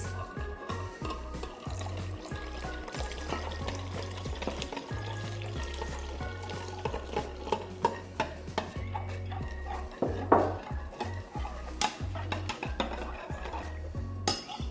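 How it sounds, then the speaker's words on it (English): A spoon stirs a gelatin mixture for a clove-scented air freshener gel, producing rapid clinking and scraping against the container over a low rhythmic hum, close up, with no voices. "So now I'm going to give this gelatin mixture a stir, and I'm going to add this to this."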